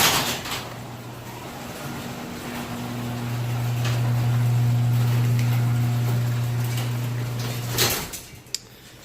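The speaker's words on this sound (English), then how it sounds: "close the door." A car trunk lid being shut: a steady low hum runs for several seconds, then a single firm closing thud near the end, followed by quiet.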